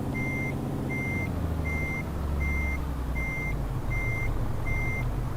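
A truck in Euro Truck Simulator 2 backs up a trailer, its reversing alarm beeping seven times in an even rhythm over a low, steady diesel engine drone.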